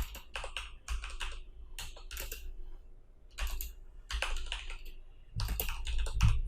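Quick bursts of key clicks as code is typed on a computer keyboard, close and fairly quiet, coming in irregular clusters separated by short pauses.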